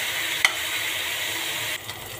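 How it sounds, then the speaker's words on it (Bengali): Chicken meat frying in a pan with a little water added, a steady close sizzle and hiss throughout, with a brief stir or clink near the start and a slight drop in intensity toward the end. "সেভাবে করে আমি মাংসটাকে ভেজে নেব।"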